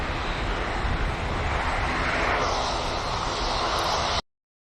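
An EasyJet airliner bound for Geneva roars on departure from Manchester Airport, its jet engines giving a loud, broad, steady rush that swells slightly and then cuts off abruptly.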